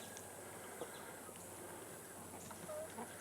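Whiting True Blue hens clucking softly near a waterer, with a few brief, faint calls scattered over a steady background hiss and no voices.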